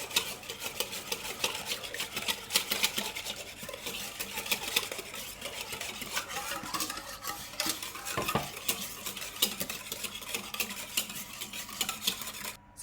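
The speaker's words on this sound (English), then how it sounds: "Now we're just going to whisk our wet ingredients together to combine them nicely" Wet muffin ingredients with honey are whisked in a bowl, a fast, steady run of clattering, scraping strokes of the whisk against the bowl, close and continuous with no talking.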